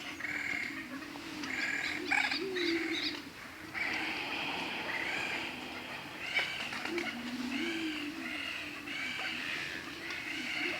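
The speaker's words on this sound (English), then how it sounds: "Enjoy the sounds of the birds, lots of them fluttering around." A flock of birds coos and calls continuously nearby, overlapping throaty warbling phrases that rise and fall over a soft rustling background, moderately loud, with no talking.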